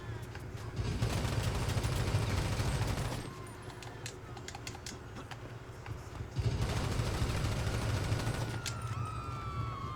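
Shotgun gunfire in GTA V, heard as dense, loud bursts of blasts for about three seconds, a quieter stretch of background noise, then another sustained volley of shots to the end.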